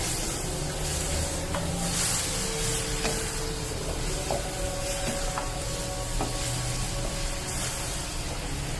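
Minced meat keema for a khara masala karahi being stirred in a frying pan, a steady close sizzle with scraping spoon strokes throughout, no voices.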